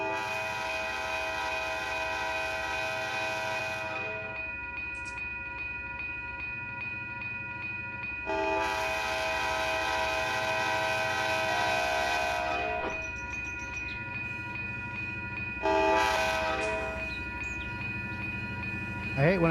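Trains rolling through the Run 8 train simulator game, with a sustained steady rumble and long tonal horn blasts that come and go in three extended stretches, fairly loud and continuous throughout.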